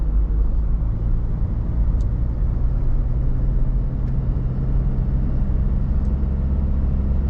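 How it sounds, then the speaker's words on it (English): A car climbing a modest hill in fourth gear with the transmission lockup disengaged, a steady low engine drone and road rumble holding constant throughout, heard from inside the cabin with no talking. "we're in 4th gear going up a bit of a hill"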